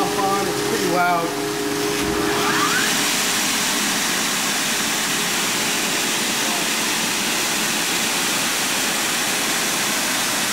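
An 8.5 horsepower regenerative blower runs with a loud, steady rushing roar that starts up after a short mechanical rise and holds evenly, with a voice heard briefly at the start.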